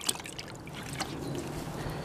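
Water sloshes and trickles in a bucket set out for wet sanding a van's painted hood, soft splashes and dribbles close by with a brief louder splash at the start.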